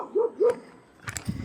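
A single dog gives two quick, close barks in a row, then a brief pause, with faint rustling and noise after, heard on a rural route during a bicycle ride.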